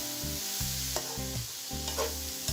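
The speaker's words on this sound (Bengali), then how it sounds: "আমি এই কচুটা ভেজে নেব" Chopped taro and shrimp stirred and fried in a pan, a close, steady sizzle broken by rhythmic scraping strokes of a spatula every second or so, with no talking.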